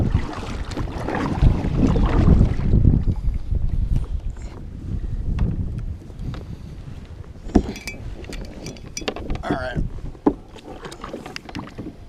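Kayak paddled across open water on a calm day while fishing for walleye, with steady wind and water wash that is loudest early on and then settles, broken by a few sharp knocks of the paddle or hull.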